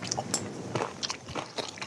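Crunchy bites of pan-fried dumplings (gunmandu), several close crisp crunches in quick irregular succession with no talk over them.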